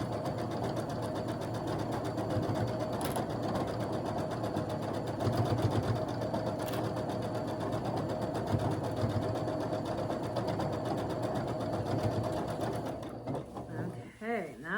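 A sewing machine stitches a quilt block seam in a continuous, fast mechanical whir with steady needle rhythm, running close and even for most of the time before stopping near the end.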